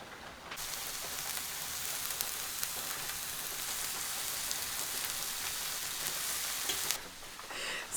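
Mushrooms sizzle and fry steadily in a dry pan with no oil, nudged with a fork, a close, dense, continuous hiss that cuts off near the end.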